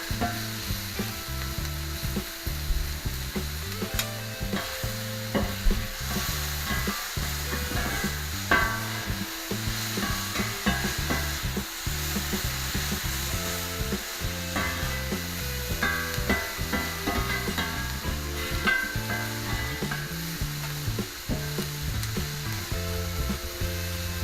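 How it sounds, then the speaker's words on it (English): Onions stir-frying in oil on a steel plancha, a steady sizzle broken by repeated scraping and clacking of a utensil against the metal surface, with no talking. "As you stir frying, just separate any pieces of onion that are still stuck together."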